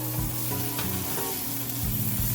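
Sliced peppers and onions sizzle in a pan for pepper steak, a dense steady crackle of frying with a few stirring clatters and a faint background hum.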